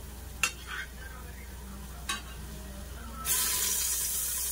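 Oil and ghee hit a hot pan (bandi) to start a prawn kachha biryani, with two brief clatters and then a steady, loud hiss of sizzling fat that runs to the end, no talk.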